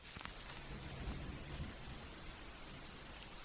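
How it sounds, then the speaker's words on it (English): Rain falls in a steady, even hiss with faint scattered drops, continuous and fairly quiet throughout. "And then it rains."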